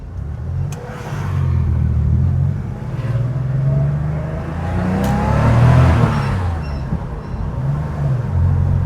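A 1988 Porsche 911 driving and accelerating, heard from the cabin: a deep engine rumble that swells and falls through throttle changes, loud and continuous with no talk.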